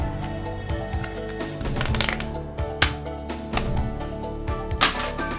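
Opening the jewel case in the video game Quantum Gate triggers a comical farting noise, heard as a series of sputtering, crackling bursts with sharp pops, alone and fairly close.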